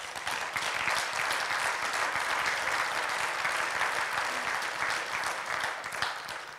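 Audience at a political talk in Baden-Württemberg breaks into applause, a sustained even wash of many hands clapping at moderate distance, fairly quiet overall and holding steady throughout.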